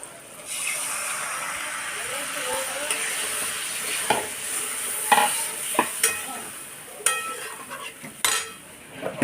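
Spiced masala with a splash of water for a prawn dish sizzles in a pan. A spatula stirs it with a continuous hiss and repeated close scrapes and clacks.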